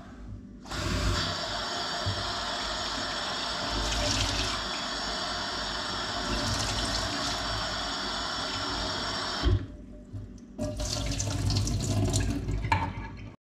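Tap water runs steadily into a kitchen sink for washing during preparation of tuna kinilaw, a continuous splashing stream that briefly stops near the end before flowing again.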